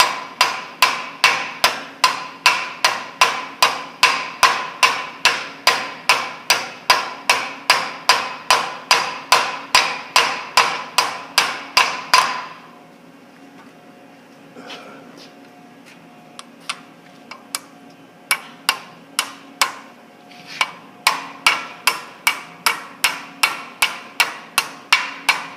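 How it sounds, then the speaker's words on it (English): A hammer lightly taps a new bearing into place on the spindle of a Utica 15-inch knife machine, striking in a quick, even run of dozens of blows, pausing for a few scattered taps, then resuming the steady rhythm. "Install the bearing by lightly tapping around the outside edge so that it will go in evenly."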